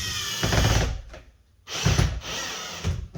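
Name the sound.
power drill drilling into car for side skirt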